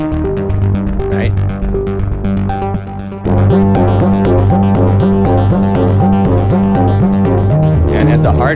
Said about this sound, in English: it's Diva making all the sounds you're hearing